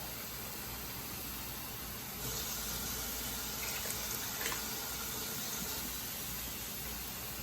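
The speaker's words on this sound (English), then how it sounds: "I'm gonna add some more water to the pot" Water runs steadily into a pot while fish tea soup is being made, a soft, even hiss that swells slightly midway and continues without talk.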